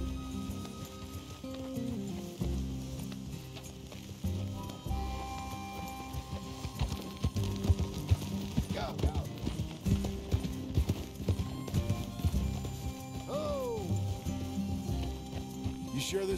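Horse hooves clip-clop steadily in Red Dead Redemption 2, a rhythmic clatter of several horses moving, with game music and ambience underneath throughout.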